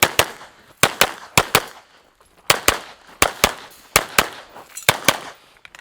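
Glock 17 pistol shots ring out in quick pairs and short strings while the shooter moves through a USPSA-style training course, each crack loud and close with brief echoing decay, separated by short pauses.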